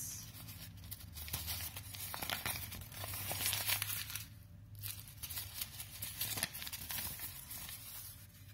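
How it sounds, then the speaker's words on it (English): Newspaper soaked with coffee gets crumpled by hand, giving a steady run of soft crinkling and rustling with occasional louder crackles; close and moderately quiet, with no speech. "I'm going to crumple this newspaper and see how the effect comes"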